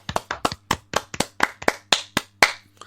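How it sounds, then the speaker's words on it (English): A studio crowd at a WWE event claps in a sparse, uneven round of applause, with about a dozen distinct sharp hand claps close by over a low steady hum. "It's not a round of applause if you don't join in."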